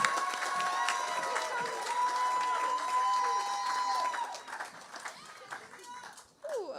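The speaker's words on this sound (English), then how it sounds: "applause." An audience at a high school graduation ceremony applauds, a dense, steady wash of clapping from a large crowd at moderate distance, fading toward the end as a voice starts to speak.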